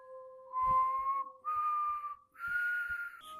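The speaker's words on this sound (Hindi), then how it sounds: "तभी बाहर सीटी जैसी आवाज आने लगी" A thin, wavering whistle in three sustained phrases, each sliding slightly upward, faint and alone in a quiet space.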